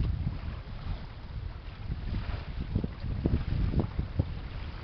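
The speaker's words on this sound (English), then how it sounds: "kind of windy out here today at the pond" Steady wind rumbles outdoors at a small beaver pond, with low buffeting gusts and some water waves lapping nearby. No one speaks.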